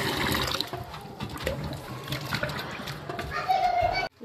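Cut potatoes are washed in water, with splashing, swishing and running liquid filling the scene at moderate loudness, and a voice sounds briefly near the end.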